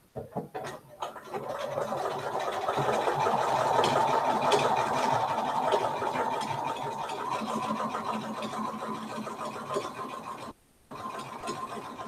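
A sewing machine runs steadily for about ten seconds, stitching a second seam an eighth of an inch beside the first on a knitted sweater bag. A dense mechanical whir holds through, with a brief stop near the end before it resumes.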